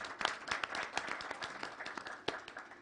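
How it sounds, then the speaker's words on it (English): Applause from an audience at a Safaricom Sacco 20th-anniversary event: scattered, fairly soft clapping from a modest crowd, irregular and slightly distant, with no talking. "I think that deserves a round of applause"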